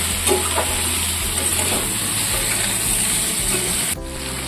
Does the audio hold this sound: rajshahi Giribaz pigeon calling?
no